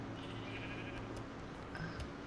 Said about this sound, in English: I see sheep.